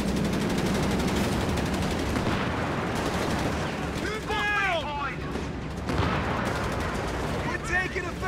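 Gunfire in Company of Heroes 3, steady rattling machine-gun bursts and rifle shots under a rumbling battlefield din, loud and continuous, with soldiers shouting over it.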